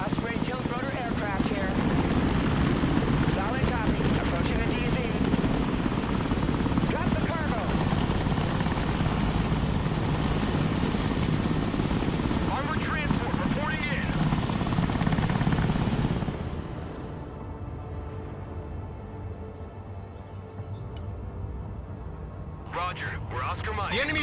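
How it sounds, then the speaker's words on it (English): An Osprey tilt-rotor aircraft in a modern-warfare strategy video game makes a loud, continuous rotor thrum and engine drone. It drops in level toward the end, and voices talk over it. "Osprey tilt rotor aircraft here."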